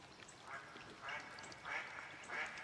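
A duck quacks in a steady rhythm, four drawn-out calls about half a second apart at moderate loudness, with no talk in the clip.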